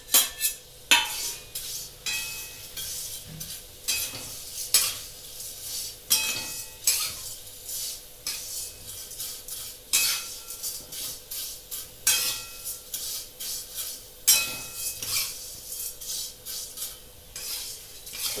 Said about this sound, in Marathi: आपल्या शेवया आहेत त्या आपण त्याच्यामध्ये थोड्या गरम करून घेणार आहोत 2 मिनिटं।